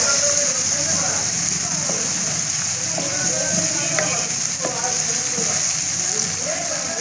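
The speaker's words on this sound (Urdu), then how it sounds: "اس کو ہم تھوڑا سا فرائی کر لیں گے۔" Green peas fry in a pan for a vegetable pulao, giving a constant, even hiss of sizzling oil with a few faint clicks and scrapes.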